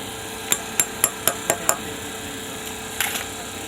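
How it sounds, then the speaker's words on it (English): Sharp hammer blows striking a rivet, six quick metallic strikes in an even rhythm, then a pause and a couple of fainter knocks, close and clear with no talking. "Let me pass the hammer."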